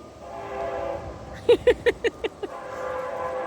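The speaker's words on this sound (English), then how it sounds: "Cue the train!" A train horn blasts six short, evenly spaced honks, loud and fairly close, each fading a little, over steady wind noise and rail rumble outdoors.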